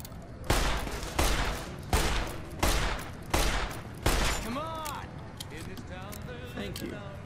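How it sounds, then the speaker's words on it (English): Gunfire in Fallout New Vegas: six loud, evenly spaced gunshots roughly every three-quarters of a second, followed by a voice speaking over quieter game sounds. "Old Ben, why are you shooting?"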